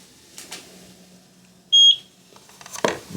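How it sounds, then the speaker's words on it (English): A Eufy E340 video doorbell giving a single short, clear electronic sync beep that stands out sharply in a quiet room, followed by faint handling noises. "press the sync button until you hear the beep"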